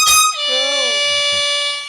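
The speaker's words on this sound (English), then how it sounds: "Oh, it's a double air horn." A double air horn sounds loud and close, a sustained blaring tone that holds steady for nearly two seconds after a brief harsh burst at the start. Low wavering vocal sounds run underneath the blast.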